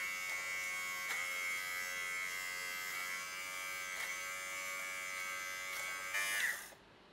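A Philips electric fabric shaver buzzes steadily as it removes pills from trousers, a close, continuous whine with small shifts in pitch as it moves, rising briefly near the end before cutting off.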